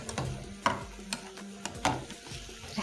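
A utensil stirring onion and chicken in a pan, a few soft scraping and clinking strokes at irregular intervals, faint and close with no voices.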